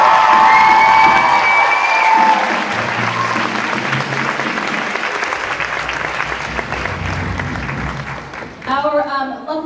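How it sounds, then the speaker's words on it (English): Loud applause with some cheering from the audience at a high school combined winter concert, swelling at first then gradually thinning out, with a few voices and instrument notes emerging near the end. "give him a round of applause."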